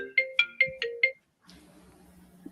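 A phone ringtone chimes five quick, bright electronic notes in an even rhythm, close and clear, then cuts off into quiet room noise.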